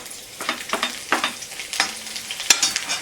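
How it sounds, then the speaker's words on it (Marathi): Finely chopped garlic hisses in hot oil in a kadai, with close, rhythmic bursts of sizzling as a spoon stirs it several times over a few seconds. "कडे तापायला ठेवले हे तेल टाकले आता ह्याच्यात लसूण बारीक चिरलेला टाकायचा"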